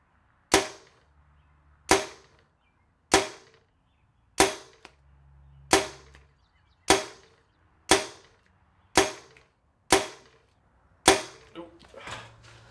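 A bow shoots arrows in quick succession during a high-volume archery practice session: about ten sharp, evenly spaced releases roughly every second and a quarter, each a crisp snap with a short ringing decay, with no talk over them.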